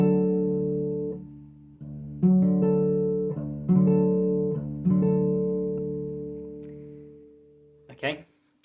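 Acoustic guitar fingerpicking pattern from a song, thumb on the low string then single higher notes picked in sequence, ringing clearly and alone with notes overlapping, ending in a short scrape.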